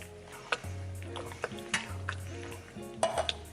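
Beans being stirred into a pot of vegan chili, with a spoon scraping and knocking against the pot in a few distinct strokes, plus wet squelching, close up and fairly quiet.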